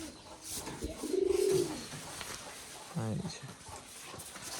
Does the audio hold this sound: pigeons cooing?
yes